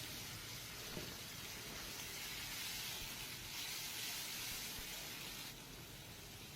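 Tomato paste hits hot oil over fried onions and cardamom, giving a faint, steady sizzling hiss that holds for several seconds and eases slightly near the end.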